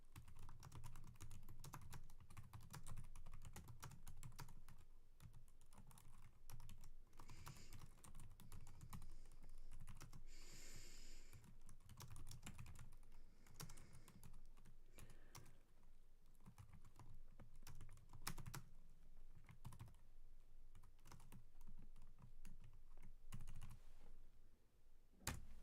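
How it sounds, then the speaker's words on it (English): Steady typing on a computer keyboard goes on for about twenty-five seconds, with dense, continuous close key clicks and occasional louder strokes, and no voice over it. "just finish typing this real quick."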